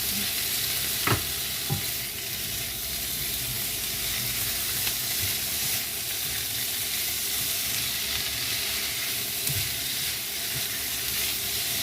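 Pork pieces frying in oil in a pan, giving a steady close sizzle and hiss with a few sharp clinks of stirring; no talking.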